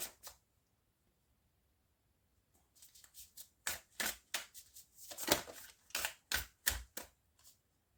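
Oracle cards shuffled for a card reading: after about three seconds of silence, a run of crisp riffling and snapping bursts comes close and alone, with no talk.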